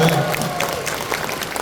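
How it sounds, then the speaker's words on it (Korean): A lecture audience breaks into brief applause for a speaker's mention of graduating top of his class at Seoul National University, a short burst of crowd clapping with light voices mixed in. "서울대학교에는 박수 좀 받아도 될까요?"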